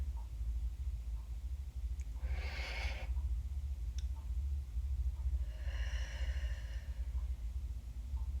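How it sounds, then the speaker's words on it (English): A deep, slow in-breath taken during a guided breathing exercise, heard twice as soft, airy swells of breath against a steady low background hum, with no talking. "You take a deep, slow in-breath."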